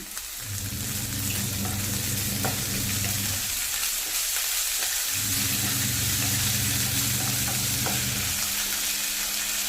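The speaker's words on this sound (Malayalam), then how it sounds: "ഇഞ്ചിയും വെളുത്തുള്ളിയും ചതച്ചത് ഇട്ട് കൊടുത്തിരിക്കണം" Crushed ginger and garlic sizzle loudly and without a break in hot oil, with a low, even frying hiss that holds for the whole stretch.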